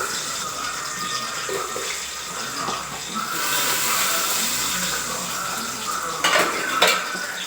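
Onions tipped into hot oil in a home-kitchen pan for a chicken gravy: a steady frying hiss swells about halfway through, with a few utensil clinks near the end.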